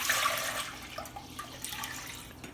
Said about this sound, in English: and rinse this pitcher out, because see, yeah, there's a little grit in the bottom